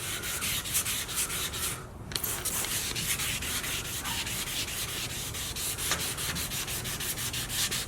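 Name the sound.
sanding primer on a car wing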